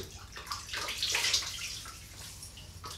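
Running water from a tap splashes steadily as a face is wetted before shaving with a scrub, with a broad hiss that swells in the middle and no talking.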